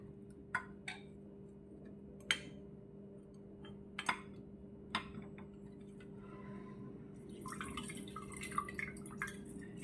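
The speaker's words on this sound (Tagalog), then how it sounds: "pigaan natin ang kalamansi" Calamansi juice squeezed out and dripping, heard as scattered single drips and light clinks over a steady low hum, a denser patch of small splashes and taps near the end.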